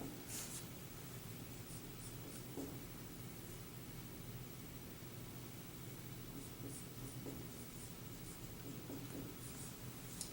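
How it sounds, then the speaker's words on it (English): Pen moving across paper while math equation steps are written out by hand, a faint, steady scratchy scribble with brief taps under a constant background hiss, no voices. "I'm just going to write them out here so that you can watch the whole steps"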